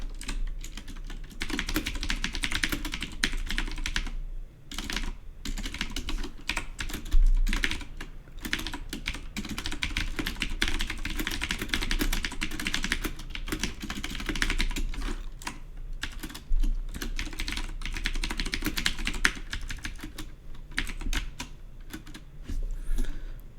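Steady typing on a computer keyboard, with dense, fairly close keystrokes clattering continuously for over twenty seconds and only brief pauses, no voices over it.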